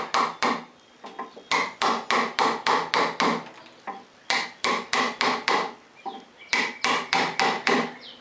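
Sharp wooden knocks from hand-carving a hardwood oak stool seat come in quick runs of strikes, each burst of five or six close blows separated by brief pauses.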